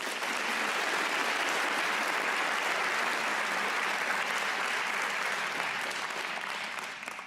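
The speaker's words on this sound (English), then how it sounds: "I would like for us all to give another round of applause for the faculty and families here tonight" An audience applauds steadily at an evening high school awards and commencement ceremony. The dense clapping stays loud throughout and only begins to ease at the very end.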